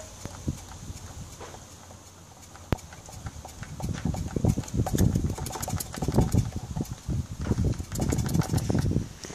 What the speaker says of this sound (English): we'll prime it about 15 times